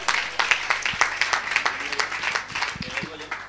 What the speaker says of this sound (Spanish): darle también su aplauso